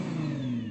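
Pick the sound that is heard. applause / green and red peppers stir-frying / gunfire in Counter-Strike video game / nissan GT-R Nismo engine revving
nissan GT-R Nismo engine revving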